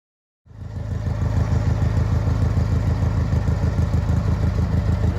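A garden tractor fitted with dually wheels starts up abruptly from silence, then a loud, close, rapidly pulsing small-engine putter runs steadily on without speech.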